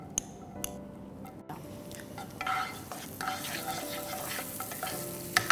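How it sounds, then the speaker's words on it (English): Chopped garlic sautéing in melted butter, a soft crackling sizzle that rises after a few sharp clicks and spoon taps against the pan, quiet and close with no voices. "So our butter is melted. Let's add some chopped garlic to this."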